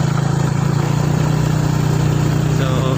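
A motorcycle engine hums steadily and loudly while being ridden on an uphill mountain road, a continuous low drone with no breaks.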